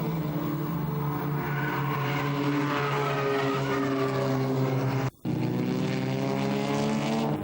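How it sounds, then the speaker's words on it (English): Ford Sierra Cosworth turbo race cars at the 1987 Willhire 24 Hour race accelerate hard on the circuit, a loud, sustained engine roar with rising harmonics that cuts out briefly before resuming. "Just look at the acceleration of these Sierra Cosworths."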